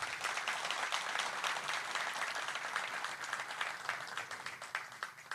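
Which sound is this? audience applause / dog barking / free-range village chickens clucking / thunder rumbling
audience applause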